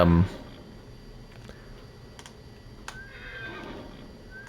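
A horse at a riding stable in Farming Simulator 22 lets out a short, loud neigh right at the start, followed by quiet background with faint hoof clops and soft clicks.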